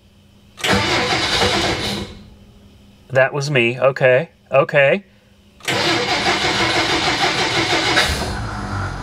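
A 1957 Plymouth barn find, parked over 20 years and with a starter fault, cranks on its starter in two long grinding bursts, with a person speaking briefly in between.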